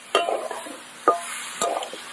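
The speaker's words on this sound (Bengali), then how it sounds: "এবার দিয়ে দেবো টমেটো বেস্ট।" Tomato paste going into a pan of sizzling ginger and green chili paste for a no-onion, no-garlic yogurt potato curry, heard as three brief, sharp bursts of frying with a light hiss between them, close and fairly quiet.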